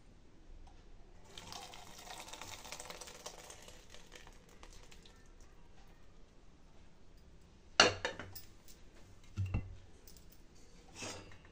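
Water runs in a thin, splashy stream over cooked sago pearls in a strainer, soft and close, followed by a couple of sharp knocks and clatters of utensils near the end.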